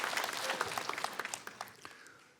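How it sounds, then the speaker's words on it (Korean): A lecture audience claps, crisp individual hand claps forming a lively patter that thins out toward the end, moderately distant and without speech. "박수 치려면 크게 치세요."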